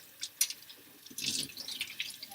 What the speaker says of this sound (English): Make sure you rinse really well so there's no soapy water bubblies coming out.